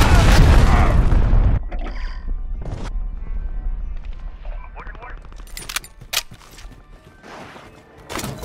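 A cruise missile strike in Call of Duty: Modern Warfare, a loud booming blast in the opening second and a half, then scattered gunshots and sharp impacts.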